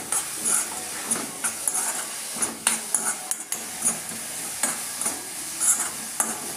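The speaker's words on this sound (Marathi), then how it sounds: "आता गूळ पण चांगला मिक्स करून घ्यायचा आणि 1-2 मिनटं अशी कैरी शिजून घ्यायची या कांद्यासोबत" Raw mango and onion chutney being stirred with jaggery in a pan, a spoon scraping and knocking in an irregular rhythm over a steady sizzling hiss, close and fairly loud, with no voices.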